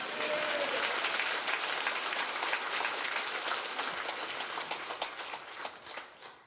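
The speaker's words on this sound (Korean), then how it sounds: "반드시 이루어 주실 하나님께 감사와 영광의 박수를 올려드립니다." Sustained applause from a church congregation during a sermon at a Korean church service, a dense steady wash of many hands clapping that holds evenly and then slowly fades toward the end, with no talking over it.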